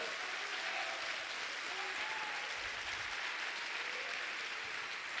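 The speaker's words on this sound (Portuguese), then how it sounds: "dê um forte aplauso ao Senhor" A church congregation applauds in worship, a steady, dense wash of clapping from many hands that holds at an even level throughout, with faint voices and tones beneath it.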